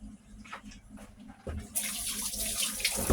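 Hot water, about 90 degrees, poured into a cup with lemon for a honey-lemon drink, a steady splashing pour that starts partway through and runs loud and close to the end.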